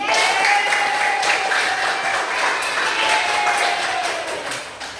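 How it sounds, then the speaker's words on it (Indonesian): Students clap together in a junior high school classroom at the end of a lesson, a brief burst of fairly close applause that thins out toward the end, with a voice faintly audible beneath it. "Sekarang tepuk tangan untuk kalian semua."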